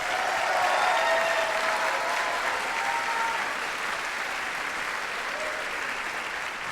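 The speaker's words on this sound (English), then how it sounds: "Give them a big round of applause." An audience at a high school spring band concert gives graduating seniors a big round of applause, a sustained roar of clapping that starts loud, then eases slightly and holds steady, with no one speaking.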